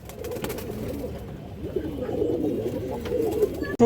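Pigeons coo at a pigeon farm, a continuous low throaty burble from several birds close by, ending with a sharp brief click.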